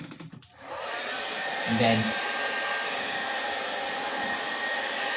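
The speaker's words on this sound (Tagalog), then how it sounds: "I use a blower kasi ayoko yung naghihintay" A hair blower runs steadily, drying setting spray on a face, starting after a brief spoken word and holding a loud, even whoosh to the end.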